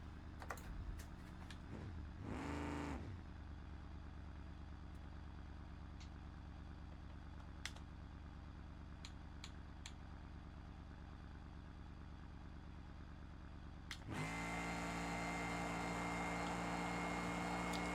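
Meo's dragster engine drones in BeamNG, a steady held tone around 7,000 RPM with scattered keyboard clicks, then surges abruptly louder and brighter near the end.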